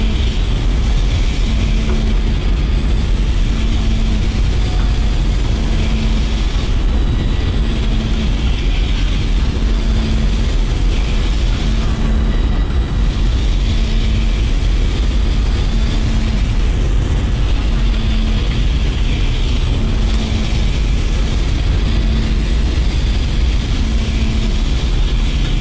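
A loud, constant engine rumble fills a spaceship in the Dead Space video game, a dense low roar with a faint repeating hum pulsing through it.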